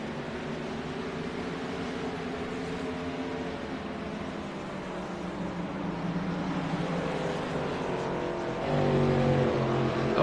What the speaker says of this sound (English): Brian Wilson's out there in the lead, Jeff, and he's pulling away again